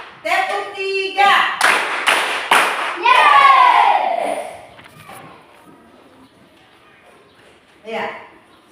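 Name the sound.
class clapping in counted rhythm during ice-breaking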